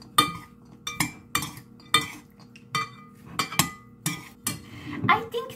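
A spoon scrapes and clinks against a bowl while mixing a healthy sandwich filling with about two tablespoons of a moistening ingredient, in close, regular strokes roughly every half second, with no talk.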